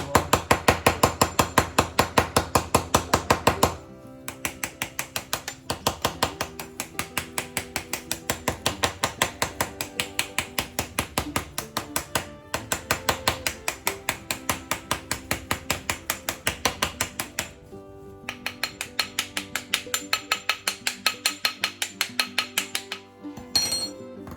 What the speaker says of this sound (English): off of the camera, I am using my juice press just to compound it as much as possible